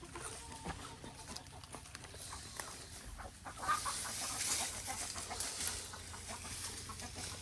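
Chickens cluck softly in the distance, scattered short calls over quiet outdoor background noise.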